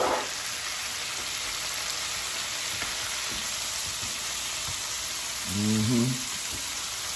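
Roma tomatoes sizzle steadily in a hot pan, a dense, even frying hiss that continues throughout, with a brief low scrape or stir near the end.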